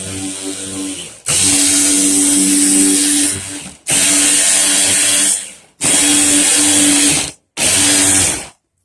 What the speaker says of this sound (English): So we sand it down.